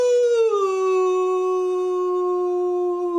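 A voice imitates a big bad wolf with one long, loud, steady howl that dips slightly in pitch early on and then holds clear and sustained to the end.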